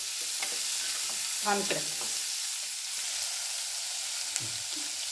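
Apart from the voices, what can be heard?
onions sautéing in a pan for poori masala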